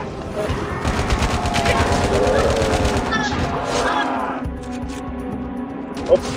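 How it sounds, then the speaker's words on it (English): Rapid video game gunfire in a battle royale match, a dense stream of close shots for several seconds over a constant game background, with a player talking over the action. "I shoot him. I'm shooting him."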